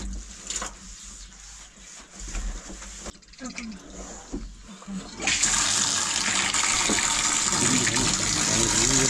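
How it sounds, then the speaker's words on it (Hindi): Water gushes from a pipe into a home swimming pool, a loud steady rushing that starts partway through and continues, with earlier softer clattering and handling sounds before it. "पापा ने पानी भी ऑन कर दिया है"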